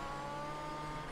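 Engine of a Ford Fiesta OMSE Supercar Lites race car in Project CARS 3, a steady, aggressive high-pitched drone held at constant revs, close and continuous with no talk.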